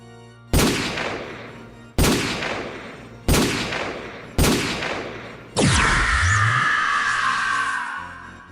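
Four loud, sharp gunshots ring out in a steady rhythm in the game Raidou Remastered, followed by a heavier blast with a sustained roaring tail that fades slowly.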